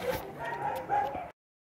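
A large dog gives several short barks and yips in quick succession, fairly close, with voices talking around it before the sound stops abruptly near the end.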